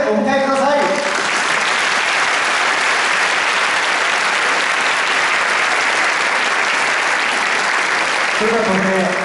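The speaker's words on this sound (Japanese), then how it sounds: "皆さん大きな拍手でお迎えください。" Loud sustained applause from the crowd at a Kawasaki Frontale new-season press event, a dense wash of clapping welcoming a guest, with brief talk at the start and end.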